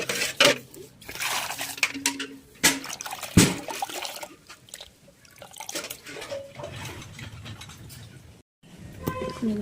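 Clothes hand-washed in water at home, with repeated splashing, sloshing and wringing noises in irregular bursts, close and fairly loud, as someone talks over them.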